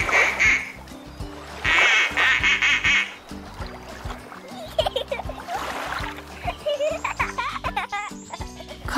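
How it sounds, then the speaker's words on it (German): A duck with ducklings quacks in short bursts in woodland, mixed with toy-like squeaks, a child's giggling and bright chirpy sounds, all fairly close and busy. "Eine Ente mit Entlein."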